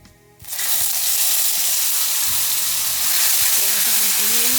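Garlic paste dropped into hot oil with bay leaf and whole spices for a pumpkin leaf curry, bursting into a loud, steady sizzle after a quiet start, with faint stirring scrapes and a brief voice near the end.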